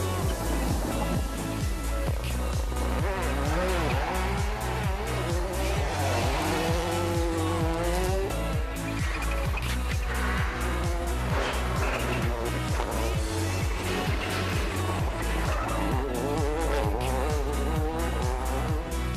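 Rally car driven hard on a tarmac stage of the Manx Rally on the Isle of Man, engine loud and close with rising and falling revs through gear changes and bursts of tire squeal, continuous for the whole run.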